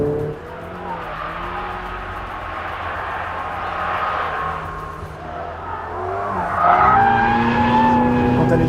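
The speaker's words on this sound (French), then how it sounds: "on a à peine le temps de toucher l'accélérateur que la voiture est littéralement projetée en avant" A Ferrari 488 GTB turbocharged sports car accelerating hard, its engine roaring loudly and steadily with rising pitch and tire noise, close and continuous throughout, with a voice talking faintly underneath.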